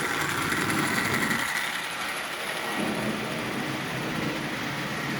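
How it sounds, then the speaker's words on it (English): An antique Marx toy train's old manual E-unit motor, mounted in a wind-up Commodore Vanderbilt shell, runs with a steady whirring electric hum and faint rattling, near and continuous with a slight dip midway. "That is an old motor. But as you see, it's actually running really well."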